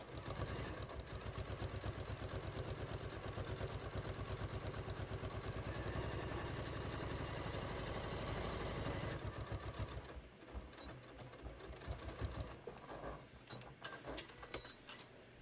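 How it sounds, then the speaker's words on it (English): A sewing machine stitches the bottom seam of a fabric beach tote at a shortened stitch length, humming steadily at close range for about ten seconds and then stopping, leaving quieter room sounds. "permanently sew the bottom, and I'll just shorten my stitch length to 3"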